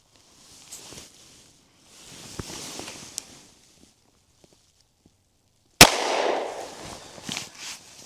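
A .380 ACP Extreme Defender round fired into a barrier test setup gives one sharp, loud gunshot crack with a short noisy tail, after a stretch of quiet handling and shuffling sounds.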